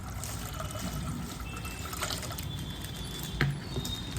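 Water pours and trickles steadily into a container of bread pieces nearby, a soft continuous splashing with a brief louder slosh near the end.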